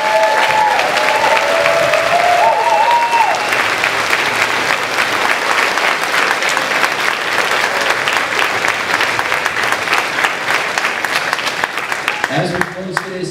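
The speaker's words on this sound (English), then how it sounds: "please join me in another round of applause for all of our fifth grade students." An indoor school audience claps for fifth grade students at a June moving-up ceremony, a dense, sustained wave of applause that fades near the end as it thins out.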